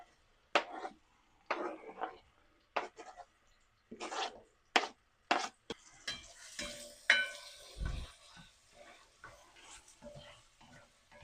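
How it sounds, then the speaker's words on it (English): Onions cooking in a pan for braised Provençal artichokes: intermittent scraping stirs with a soft sizzle beneath, bursts spaced roughly every second early on, then a denser continuous sizzle with clatters, close and moderately quiet. "We're going to get the onions in there, and we're going to cook these for about 5 minutes"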